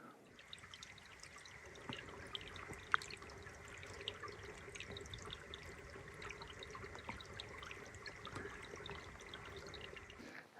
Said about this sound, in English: Crystal clear water still flowing